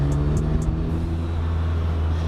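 A turbocharged car engine, fitted with four different turbos, idles with a loud, steady low hum and tonal drone, with a few faint high chirps near the start.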